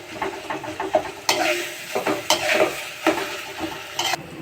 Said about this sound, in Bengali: আলুটা দিয়ে এবার খুব ভালো করে আর অল্প কিছুক্ষণ মশলাগুলোর সঙ্গে একসঙ্গে কষিয়ে নেব